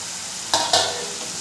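Chopped tomato tipped into hot spices in a pan for an omelette curry, two quick loud bursts of sizzling in succession that settle into a softer steady frying hiss.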